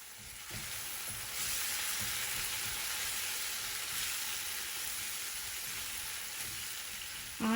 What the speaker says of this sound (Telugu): ఆయిల్ బాగా పైకి తేలే వరకు ఒక 15 నిమిషాలు లో ఫ్లేమ్లో వేయించుకోవాలి